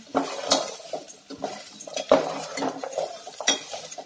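A spoon stirs salt and green chilies as they sauté in a pan, making irregular close clinks and scrapes against the metal with a faint sizzle underneath, and nobody speaks.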